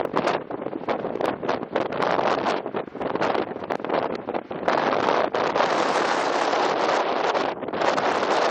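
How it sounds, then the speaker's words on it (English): Stiff breeze buffeting the microphone at Sun Point View, a loud, continuous roar of wind with gusty swells and no pause. "now we're at Sun Point View with a stiff breeze blowing"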